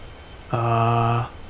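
An A319CJ jet engine in Microsoft Flight Simulator runs as a steady harmonic drone, rising abruptly, holding loud and even for under a second, then cutting off.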